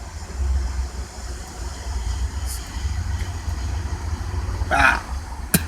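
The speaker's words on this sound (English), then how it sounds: "2¼ inch exhaust from the front to the back with that loud muffler, that MagnaFlow." Car exhaust running 2¼-inch pipe front to back through a loud MagnaFlow muffler, a steady deep low rumble throughout with a few brief higher noises near the end.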